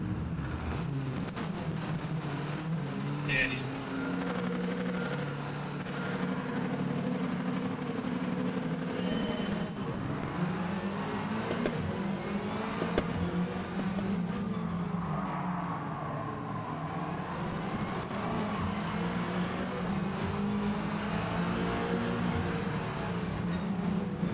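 Rallycross cars race together in a video game tournament, a steady dense engine drone with shifting pitch and passing revs that stays loud and continuous from start to finish.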